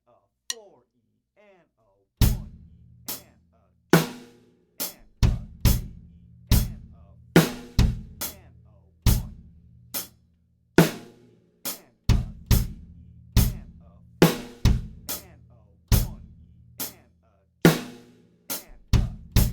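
A drum kit plays a beat mixing 8th and 16th notes, sharp snare and cymbal hits over kick and tom thumps in a steady repeating pattern, close and loud after a faint start, with no talking.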